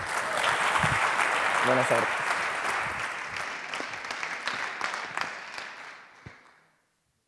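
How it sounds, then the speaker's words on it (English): A gala audience gives loud, sustained applause welcoming the first presenting group at a startup pitch final, with clapping holding steady for several seconds before thinning out; a brief spoken greeting cuts through the middle. "let's give a big applause, a warm welcome to Qualut"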